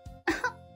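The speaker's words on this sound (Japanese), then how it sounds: "咳が出るね" A short, close cough, two quick bursts with a soft tonal hum underneath.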